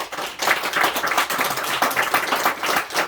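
Congregation clapping together at a New Year's Eve church service, a dense, lively burst of many hands filling the room at steady volume throughout, with no speech over it.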